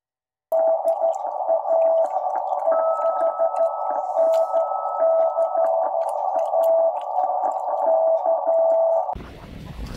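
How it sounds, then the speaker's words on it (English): A steady Morse code tone from a German WW2 Torn.Fu.b1 radio, received in Norway, keys on and off in rapid dots and dashes over a faint hiss, continuing for several seconds before abruptly cutting to noise. "I will now show you how my signal sounds in Norway."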